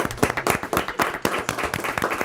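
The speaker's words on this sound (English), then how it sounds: "Yes, round of applause." A brief round of applause at a farmers market gathering, a small group clapping in quick, uneven bursts nearby.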